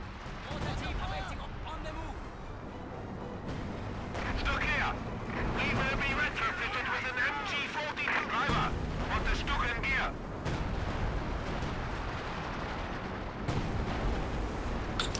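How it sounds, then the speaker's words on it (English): Dense Company of Heroes 2 battlefield artillery, booming impacts and rumbling blasts layered over one another, steady and loud, with players talking throughout. "They got a whole lot of artillery."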